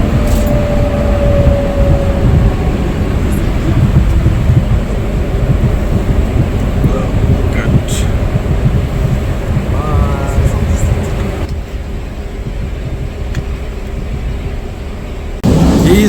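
Paris RER commuter train running: a steady, loud low rumble of wheels and motors inside the carriage, with faint squeals and clatter, dropping slightly in level before the roar returns.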